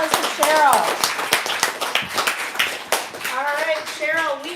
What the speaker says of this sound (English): So, round of applause for Cheryl.